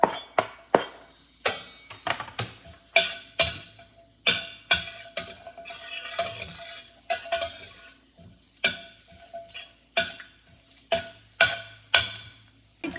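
Cumin seeds and garlic fry in hot oil in a pan, with repeated sharp clinks and scrapes of a spoon stirring against the metal over a soft sizzle.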